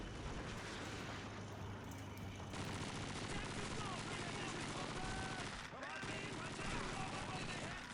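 Gunfire in Call of Duty rattles in dense, continuous bursts of automatic weapons and explosions, a busy, layered battlefield din that keeps going throughout at a faint overall level.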